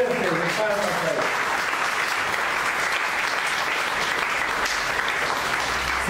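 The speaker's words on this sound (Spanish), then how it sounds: "Denle una ofrenda fuerte de palmas a Él." A church congregation claps in a loud, steady, dense round of applause that holds throughout, with a faint voice underneath at the start.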